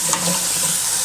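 Cold tap water runs over rice being rinsed, making a steady close splashing hiss with a faint grainy rustle, brief and without any voices.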